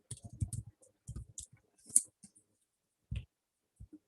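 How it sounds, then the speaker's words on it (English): Typing on a computer keyboard during a Python coding lesson: scattered bursts of light key clicks, some quick runs and some isolated taps separated by short pauses, close and crisp with no talking. "I'm just typing out print double like we did print 10"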